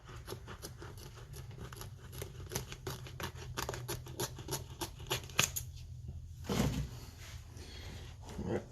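Scissors snip repeatedly through an ATV seat cover in a steady run of crisp cuts, close and fairly quiet, followed by a brief rustle of the material near the end.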